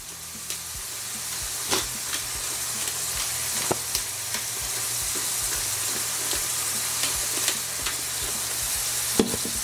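Ground beef frying in a pan with released grease and seasoning of kosher salt and black pepper, a steady close sizzle broken by scattered crackles and scraping stirs.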